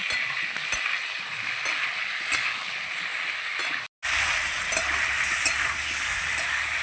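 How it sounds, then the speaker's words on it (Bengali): Cauliflower frying in a pan with a pinch of salt and turmeric, giving a steady close hiss and crackle with scattered small pops and a brief dropout near the middle. "দিয়ে দেবো হলুদ, একদম সামান্য। এবার ভেজে নেব।"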